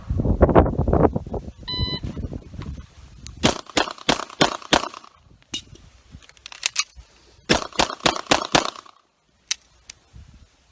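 A Beretta 92 Compact pistol fires sharp shots during a reload drill: a few rapid shots, a pause, then more quick shots, with a timer beep and metallic clatter mixed in.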